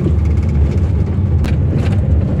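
A 2023 Mercedes Sprinter 417 CDI van drives along a dirt road, heard as a steady low engine and road rumble with tyre noise and a few brief rattles, with no talking.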